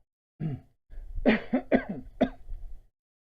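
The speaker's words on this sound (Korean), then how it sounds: "아직 한 번씩 기침이 나옵니다." A teacher's short series of harsh coughs during a lesson, close and fairly loud, in irregular bursts with brief pauses between them.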